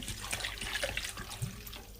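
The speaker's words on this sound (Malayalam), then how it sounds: "ഇനി വെള്ളം ചേർക്കാം." Water pours steadily into a pot of elephant foot yam seasoned with curry leaves and turmeric, a close, continuous rushing splash with no talk.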